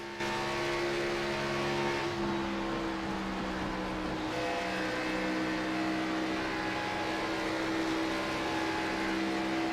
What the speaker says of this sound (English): Tires are kind of squealing. Not squealing, but, you just hear them kind of rubbing and, putting a lot of turn on them.